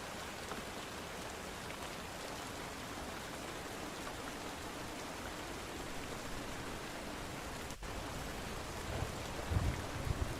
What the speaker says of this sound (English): I hear the rain right now